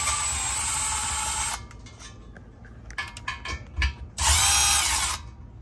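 Hand ratcheting or tool work on M6 Allen head bolts with a 5mm hex key while removing a 3.5L EcoBoost intercooler blow off valve, steady mechanical whirring in two long stretches with clicks and knocks between, close up.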